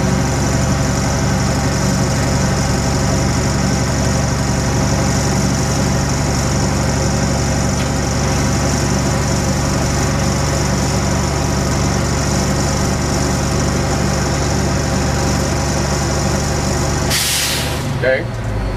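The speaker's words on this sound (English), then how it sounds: "I'm going to bring my air back up to max" A truck's diesel engine idles steadily and loud throughout while air pressure builds during a CDL pre-trip inspection, with a sharp hiss of released air near the end.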